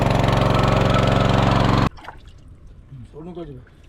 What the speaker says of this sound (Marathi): इथून सर्व जो पाणी खड्ड्यामधून खेचून पंपमधून बाहेर फेकला जातोय